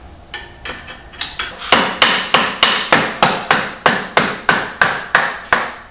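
A hammer taps on a motorcycle front wheel during refitting, striking about sixteen sharp metallic blows. The blows start quiet and sparse, then grow louder and settle into a quick, even rhythm close by.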